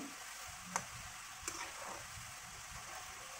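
Quiet, steady sizzling of nimki, a fried flour snack, frying in oil over medium-high heat, with a couple of sharp clicks as it is stirred.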